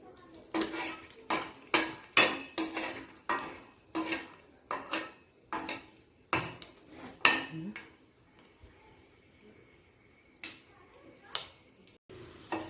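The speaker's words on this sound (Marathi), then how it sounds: "तेलामध्ये आपण शेंगदाणे पण फ्राय करून घेऊया।" Peanuts fry in oil, with a faint sizzle beneath repeated close clinks and scrapes of a utensil against the pan, in an uneven rhythm that thins out toward the end.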